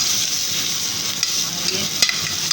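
Garlic being stirred into a hot frying pan, a steady broad sizzle with a few sharp scraping clicks of the utensil near the end, close and continuous with no talking.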